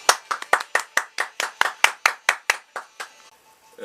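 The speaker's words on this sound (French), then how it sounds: "Vous pouvez applaudir l'accessoire." Clapping from a small audience at a French performance show, about fifteen distinct, sharp claps in a quick, fairly even rhythm, close and loud, ending abruptly.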